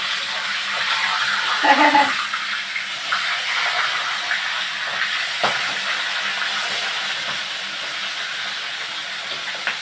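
Fish heads fry in hot oil, giving a continuous hissing sizzle with some bubbling and a brief clatter near the start, steady and close throughout.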